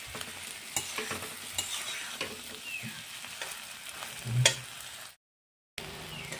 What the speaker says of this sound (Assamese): আৰু অলপ টাইম ফ্ৰাই কৰি ল'ম এনেদৰে